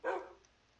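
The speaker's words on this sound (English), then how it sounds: "This dog really does not want me to leave." A dog in Minecraft gives a single short bark, close and fairly quiet, then fades into near silence.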